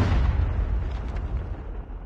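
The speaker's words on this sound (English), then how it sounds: "Hostile predator missile inbound." Predator missile explosion in a Call of Duty video game, a loud broad rumbling blast that fills the whole short clip and slowly trails off, no speech.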